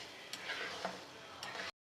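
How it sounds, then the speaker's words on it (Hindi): Semolina halwa with sugar and nuts roasting in a pan while a spoon stirs it, giving faint scraping ticks over a soft sizzle for under two seconds before cutting off. "हलवे को हमने भूनते जाना है। चम्मच चलाते रहे मुसलसल"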